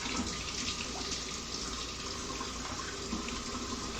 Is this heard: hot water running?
yes